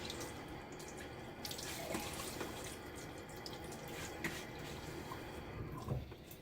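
Cold hard water runs steadily from a tap into a sink, with faint splashes and drips over a continuous hiss, close by, as a face is wetted before shaving.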